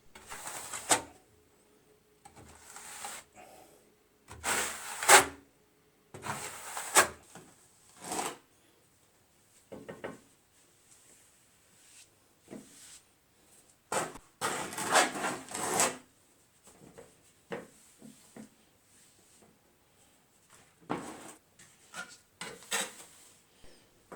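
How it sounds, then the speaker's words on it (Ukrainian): Trowel spreading a thin layer of tile adhesive onto a flat wall without a notched comb: repeated scraping, smearing strokes in irregular bursts with short pauses, close and moderately loud, with no talking. "Я на стіну наношу і втискую тонкий слой клею без грибінки."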